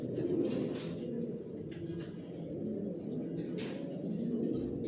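Racing pigeons in a loft coo softly and steadily, a low murmuring chorus of overlapping calls heard up close with faint flutters and rustles.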